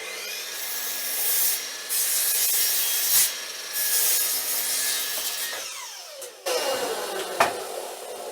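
A handsaw works through wood cut to length for a low shelf, with repeated rasping strokes close by and brief pauses between bursts, heard alone without talk.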